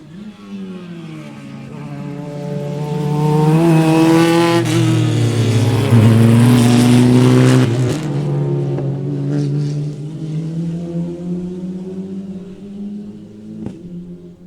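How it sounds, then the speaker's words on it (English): Formula race cars at Sebring in an SCCA event, a loud engine note rising and swelling as cars approach and pass close by, peaking mid-way, then trailing off with a lingering drone as they pull away. "here comes your Formula cars"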